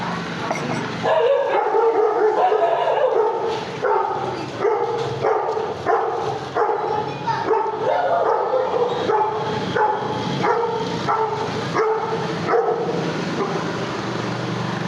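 A dog barks repeatedly in quick bursts close by, some yips and whimpery notes mixed in, continuing loudly throughout.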